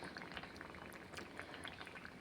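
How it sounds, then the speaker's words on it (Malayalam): Kerala fish curry simmering in a pot, a faint, continuous bubbling and popping close by with no voices. "കറി നല്ല തിളച്ച് വരുന്നുണ്ട്"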